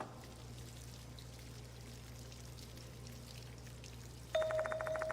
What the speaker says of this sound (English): Sounds like running water.